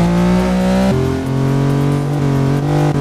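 Engine of a Genesis sedan traffic car driven in a driving-school simulator game, a steady loud hum with a slight pitch shift partway through, continuous and alone.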